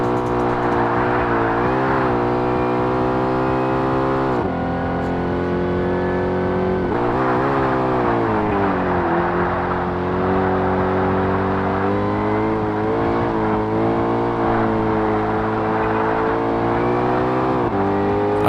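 A Koenigsegg engine races in Forza Motorsport (2005), loud and steady, droning and shifting pitch as the car accelerates and changes gear through a continuous run, with no talking.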